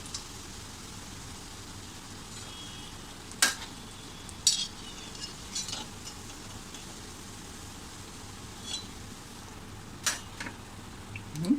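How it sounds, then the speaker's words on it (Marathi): Egg cutlet patties fry in a pan with a faint, constant low sizzle, broken now and then by sharp clicks and taps of a utensil against the pan. "आता मी माझे जे बाकीचे आहेत ते पॅटीस अशा प्रकारे तळून घेते"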